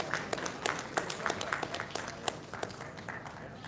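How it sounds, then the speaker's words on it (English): Applause from an audience at an awards ceremony: steady, fairly faint clapping throughout, with individual claps standing out in a continuous patter and faint talk underneath. "big round of applause for all of us, please."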